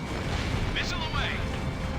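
A tank exploding in a flight combat video game: a sustained heavy blast rumble with someone speaking over the din.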